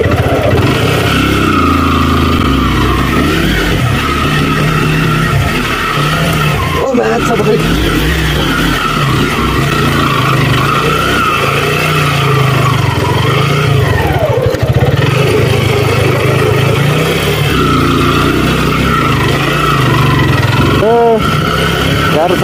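A motorcycle engine revs continuously and loudly at a park in Nepal, a steady roaring drone with rising pitch sweeps, while voices talk over it.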